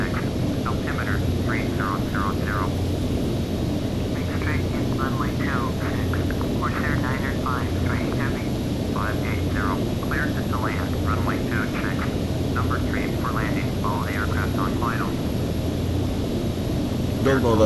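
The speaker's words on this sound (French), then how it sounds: "Déjà il y a un Airbus qui se pose." Airbus jet engine in Microsoft Flight Simulator X, a steady broad roar and hum running throughout near Paris Orly, with a voice speaking over it in short bursts.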